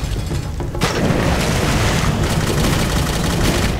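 Loud, dense gunfire and booming blasts from the video game Jericho fill the whole stretch with overlapping shots and no pause.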